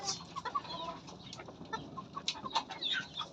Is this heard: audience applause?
no